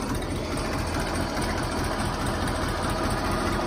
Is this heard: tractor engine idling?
yes